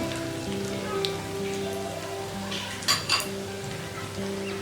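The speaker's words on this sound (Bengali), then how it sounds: "আমি একটু ব্রাউনি করে ভেজে নিচ্ছি" Chicken tikiya kebab cutlets fry in a pan with a steady, close sizzle, broken by a couple of brief utensil clinks near the middle; no one speaks.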